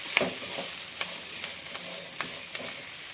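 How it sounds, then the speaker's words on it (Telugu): Salt and curry leaves are stirred through sizzling oil in a pan, with a spoon scraping at a steady pace of soft repeated strokes over a constant close frying hiss. "వేసి మంచిగా మళ్ళీ ఇలా కలియపెట్టుకుంటూ ఉందాము"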